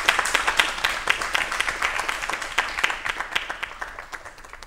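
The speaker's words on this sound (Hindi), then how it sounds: "सबसे पहले जोरदार तालियां, क्योंकि तालियां ऊर्जा का स्रोत मानी जाती है।" An audience at a yoga-themed event gives loud applause, a crisp and fairly dense run of hand claps that holds for several seconds and tapers slightly near the end.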